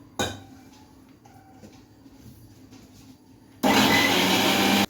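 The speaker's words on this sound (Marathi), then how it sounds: "आता हे मिश्रण मी मिक्सरमध्ये बारीक करून घेणार आहे" A sharp clank and faint handling sounds come first, then a kitchen mixer grinder roars loudly and steadily as it grinds a spice mixture with a little water for a traditional Bhogi vegetable dish.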